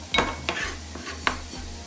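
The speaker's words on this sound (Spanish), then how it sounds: "tengo la mitad de lo que es un pimiento verde que vamos a estar picando en slice" A knife slices half a green bell pepper on a cutting board, giving three or four sharp, separate taps spaced irregularly over a faint background hum.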